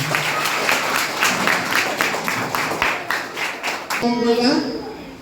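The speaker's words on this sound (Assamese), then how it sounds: "সকলোৱে হাত চাপৰি চাওক" Applause from a school audience at a student council election, many hands clapping together in a steady, dense wash for several seconds before fading out, with voices talking alongside it.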